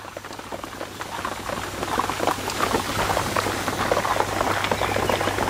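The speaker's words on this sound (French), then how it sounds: "Vous voyez que la brumisation est quand même beaucoup plus fine que l'arrosage." Misting and spraying water from an automatic bonsai watering system, a steady fine hiss like light rain that swells slightly and holds at moderate loudness over a low hum.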